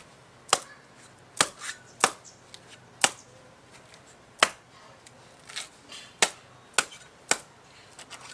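A coconut is split by hand, about a dozen sharp, close chopping strikes landing in an irregular rhythm with short quiet gaps between blows.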